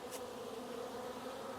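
Honeybees flying in and out at a hive, a steady, dense droning buzz of many wings, fairly quiet and constant, with no voices.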